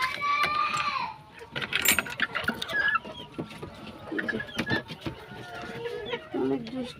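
Chickens cluck and squawk inside a netted enclosure, a busy run of close, overlapping clucks and short calls with scattered scuffling and knocks, while someone talks over them.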